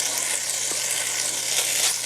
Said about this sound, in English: Can you hear the sizzle?